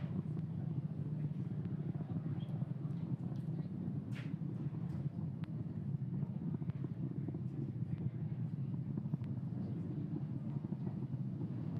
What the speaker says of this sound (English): we will be throttling the engines down in preparation for max Q, or maximum aerodynamic pressure